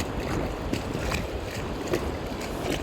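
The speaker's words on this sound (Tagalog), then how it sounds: "Lumakas na yung hangin" Strong wind at sea buffets a small fishing boat, a steady rushing roar with gusts and soft knocks of water against the hull, fairly faint.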